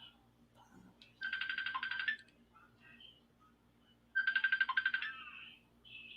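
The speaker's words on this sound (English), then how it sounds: "That's my phone." Mobile phone ringtone sounding in two separate bursts of rapid electronic chirps, about a second each with a pause between, in an otherwise quiet room.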